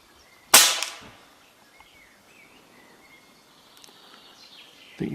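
A single sharp rifle shot fired with a Hawke scope mounted at 40 yards on 6x magnification cracks loudly outdoors, trailing off into quiet with faint birdsong, before a second report begins at the very end.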